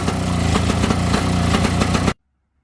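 The 30 hp engine of a 1971 Johnson Skee Horse snowmobile runs loud and close with a dense, raspy steady roar, then cuts off abruptly into silence.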